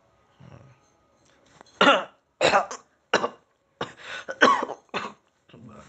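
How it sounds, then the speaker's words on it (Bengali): A person coughs repeatedly indoors, a series of about six sharp, close bursts separated by short pauses, with some throat clearing between them. "এত কাশি হচ্ছে কেন?"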